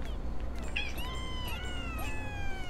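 A domestic cat meowing several times in rising and falling drawn-out calls, close and clear over a constant low background hum.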